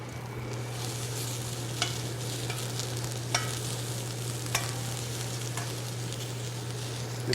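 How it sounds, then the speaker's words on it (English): Onions caramelizing in a hot frying pan give a steady, close sizzle that carries alone throughout, broken by a few faint scrapes or taps from stirring. "Now we have some onions I'm going to add into this, and I like to caramelize my onions just a little bit."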